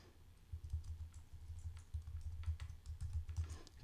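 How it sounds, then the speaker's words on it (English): Fingers tap away on a computer keyboard in quick, uneven bursts of soft clicks, faint and close by, with no voices. "I'm trying to look at the screen and type at the same time"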